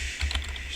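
A brief burst of typing on a computer keyboard, quick close key clicks lasting under a second.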